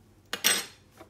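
A knife and cutlery clink against dishes at close range, two quick metallic knocks followed by a fainter third.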